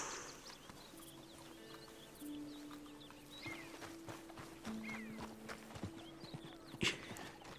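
A horse following the player in Red Dead Redemption 2, with soft hoof clip-clops in an irregular walking rhythm over quiet outdoor ambience, a few sustained tonal notes, and one brief sharp louder sound near the end.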